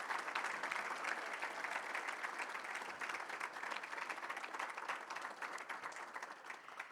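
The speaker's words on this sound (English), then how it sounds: "So if you guys could give a round of applause to Air Power Foundation." Sustained applause from a luncheon audience honoring the Air Power Foundation, dense and steady for the full stretch, fading slightly toward the end.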